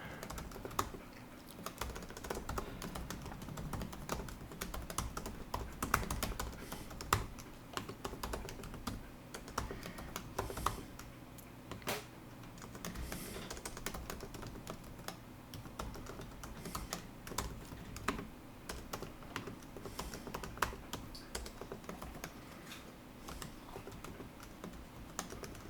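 Steady typing on a computer keyboard, a quiet continuous patter of keystrokes with small irregular pauses, close and faint, no voices.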